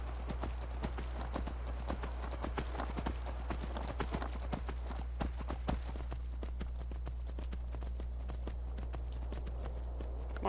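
A horse gallops in Skyrim, rapid rhythmic hoofbeats clattering close and clear over a low steady hum, with the pace thinning out near the end.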